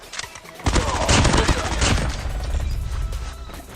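A Mac-10 submachine gun fires in Call of Duty Mobile battle royale. Rapid, loud, dense bursts erupt after a brief quiet start, then settle into sustained gunfire and echoing shots.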